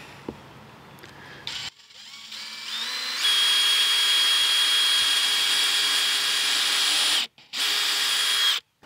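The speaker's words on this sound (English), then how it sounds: "So what I'm going to do is put a pilot hole in there just to relieve some of that tension." A power drill bores a pilot hole into old, dry wood in a Victorian house. Close and loud, the motor whirs up, holds a long steady whine, cuts out briefly, then spins again.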